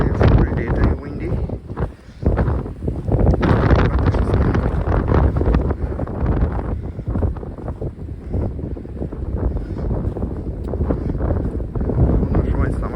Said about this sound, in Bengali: অনেক বাতাস আজকে,